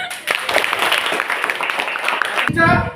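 Students in a classroom applaud together in a short burst of mixed clapping, with voices in the room throughout.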